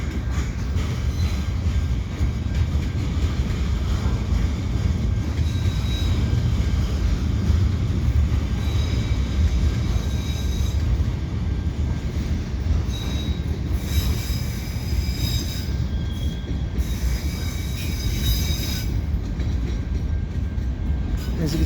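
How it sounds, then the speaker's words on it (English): CN freight train rolling steadily past the Lachine Canal bridge, a continuous heavy rumble of wheels and railcars with high metallic squealing from the wheels rising and fading throughout, loud and close. "So this train is probably bound for Southwark Yard on the South Shore."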